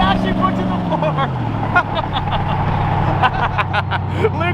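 A hypercar engine at full throttle roars close and loud as it accelerates, the pitch dropping at a gearshift and then climbing again, while people talk and shout over it.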